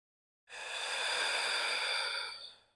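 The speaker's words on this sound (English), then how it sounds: "Deep breath." One long, deep exhale during a slow hatha yoga flow, a soft breathy rush lasting about two seconds that fades out gently, close and quiet with no talk.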